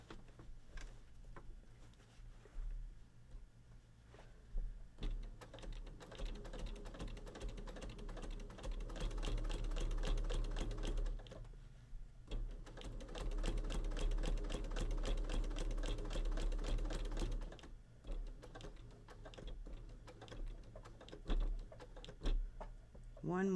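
A sewing machine quilting a project runs in sustained stretches with a steady mechanical hum and rapid needle clatter, pausing briefly between runs, with a person talking intermittently over it.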